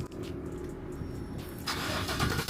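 A GMC Yukon engine cranks and catches on remote start, rising to a steady idle rumble close by, with no talking.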